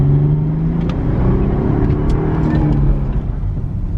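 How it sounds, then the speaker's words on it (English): A Mercedes C320 with a muffler delete and stock non-resonated mid pipe, its engine humming and revving steadily up close with a deep droning exhaust tone that holds for a few seconds. "just this muffler delete with the stock factory non-resonated mid pipe, I think it's gonna be the perfect sound."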